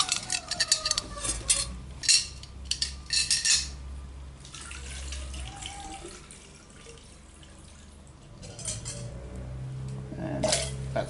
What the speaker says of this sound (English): I better put some water in it.